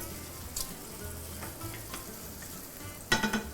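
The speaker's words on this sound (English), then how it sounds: "the onions are going to join the bacon for just a quick minute" Finely chopped onions fry with bacon in a pan, a steady close sizzle that runs throughout, with a few sharper crackles and a burst of spatter near the end.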